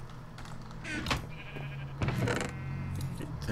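Sheep in the Minecraft video game bleating several times in short wavering calls, close and clear, with a faint tonal background and no talking.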